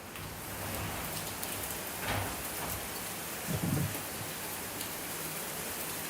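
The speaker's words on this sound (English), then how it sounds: "So it is raining outside right now." Steady rain falls outside as a continuous hiss, with a brief louder gust or splash midway; no one speaks.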